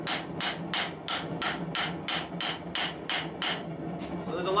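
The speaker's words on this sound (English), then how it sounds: "he's just sitting there hammering on cold steel" Hot 5160 leaf spring steel is hammered for a knife, with about ten loud, evenly spaced ringing blows in a steady rhythm, close up and alone.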